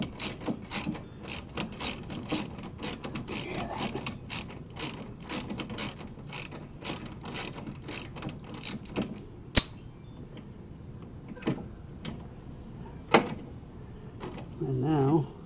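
Ratchet wrench clicking in quick rhythmic bursts while backing out a bolt on a 2005 Honda VTX 1300 motorcycle, close and fairly quiet, with a few sharper metallic clacks later.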